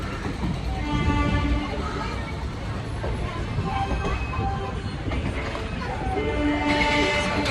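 MMTS commuter train rumbling along steadily near Secunderabad with clattering wheels and a low continuous roar, people's chatter mixed in underneath, heard from nearby.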